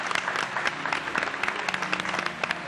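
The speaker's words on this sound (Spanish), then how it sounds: "Venga, un aplauso para ellos dos." Studio audience on a Canary Islands afternoon TV talk show applauding, a steady dense wash of clapping with sharp individual claps throughout, no talk over it.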